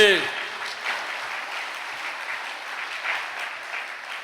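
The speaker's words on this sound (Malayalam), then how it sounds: "ഒന്ന് കൈ ഉയർത്തി കൈയടിച്ചേ" An audience at a meditation centre claps together in a sustained, even burst of applause that starts loud and then holds steady, close and dense with no break.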